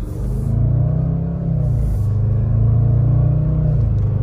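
Range Rover Sport SVR engine accelerating hard from inside the cabin, a loud steady low rumble that swells and holds with no talking.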